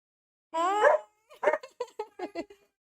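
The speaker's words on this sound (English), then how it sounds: "It's just a loud dog." A dog barks loudly nearby: a drawn-out whining howl followed by a quick run of five or six sharp barks, alone with no talk over it.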